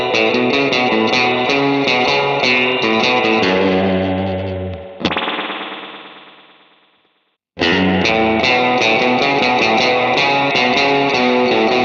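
Electric guitar fed through a Fractal AX8's small spring reverb, loud sustained chords cut off so a dripping, shimmering spring tail decays to silence before the playing resumes at full volume.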